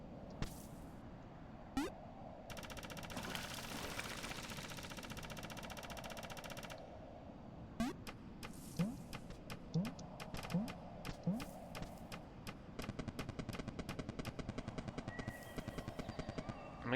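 Firecrackers in the video game Animal Well pop in scattered sharp bursts, then a rapid regular string of cracks near the end. They sound loud and close over steady game background noise.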